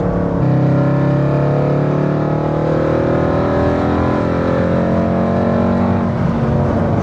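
A Mercedes C63 AMG accelerates hard, its engine a loud, continuous roar that climbs steadily in pitch with no gaps, heard from inside or very near the car with no talk.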